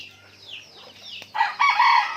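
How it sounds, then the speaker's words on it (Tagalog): Native chickens outdoors before being butchered for cooking, a brief stretch of soft clucking rising into a louder, strained crow-like call, close by. "Ito, mga manok na to"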